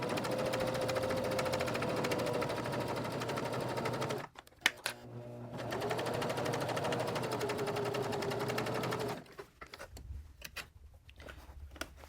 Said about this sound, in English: lift my presser foot slightly, get it in place, and just keep stitching